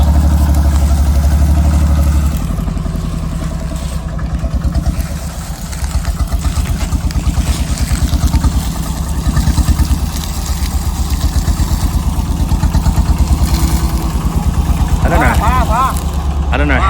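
An open-air truck rumbles along a bumpy village road in Thailand, its engine droning loud and close with rattling clatter over the rough ground while people talk over it.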